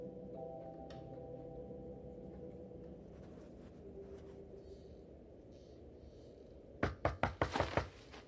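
Heavy fists pound on a door in the video game The Wolf Among Us, about five rapid, loud knocks bursting in near the end after a stretch of quiet ambient game music.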